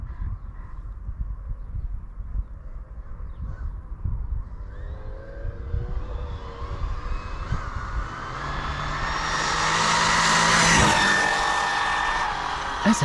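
Fast RC car on an SBR 2.0 chassis: a high whining motor rises and swells as the car accelerates, growing loudest near the end, with background noise and a voice talking alongside.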